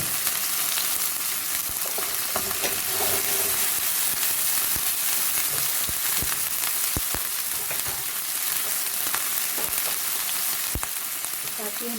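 Garlic and ginger frying in hot oil in a pan for a stuffed bitter gourd dish, a loud continuous sizzle and crackle with occasional sharp pops and stirring clicks, close up and without talk.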